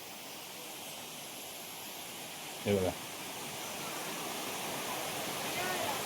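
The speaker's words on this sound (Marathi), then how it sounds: "पाण्याचा आवाज तर तुम्हाला येतच असेल" A river babbles steadily beside the Someshwar temple in the hills, a constant broad rush of flowing water, with a brief spoken phrase over it midway.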